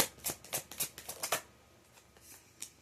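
A deck of cards is shuffled in a quick run of crisp riffling bursts, close and clear, then fades to quiet with a last faint flick.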